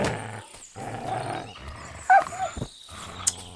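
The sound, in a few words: dogs growling in Kingdom Come Deliverance 2 video game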